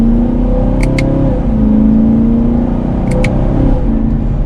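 A 2021 Chevrolet Camaro LT1 with a 10-speed automatic accelerates in manual mode, its engine droning steadily with loud, close rumble and brief pitch drops as quick paddle shifts go through, with no talk.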